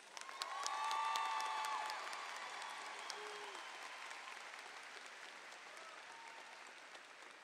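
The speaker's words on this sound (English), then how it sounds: "Please join me in a round of applause for Nathaniel James." Crowd applause at a high school graduation, rising to a peak early with a few whoops and cheers mixed in, then settling into steady, fading clapping; heard from a distance.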